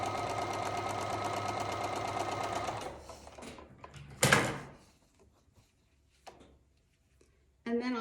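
A sewing machine stitches a quilt block seam a quarter inch from a drawn line, running in a fast steady buzz for about three seconds, then stopping, followed by a clunk, small handling clicks and a brief restart at the end.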